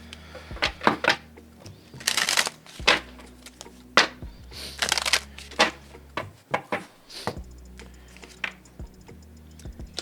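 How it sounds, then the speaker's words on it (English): Tarot cards being shuffled by hand, a run of quick crisp riffling and tapping bursts at close range, fairly quiet with no talk. "I feel like I need to shuffle that one more time."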